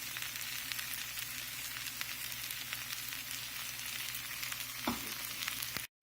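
Sriracha peanut ramen noodles sizzle steadily while being stirred with sauce in a pan, a soft continuous frying hiss with a faint scrape near the end before it cuts off.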